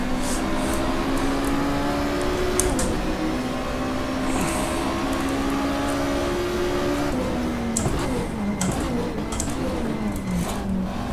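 Race car engine in the racing sim GTR2 with the Power and Glory mod, a steady loud drone with a rising and falling pitch as it accelerates and shifts, some brief higher clatter over it, heard alone.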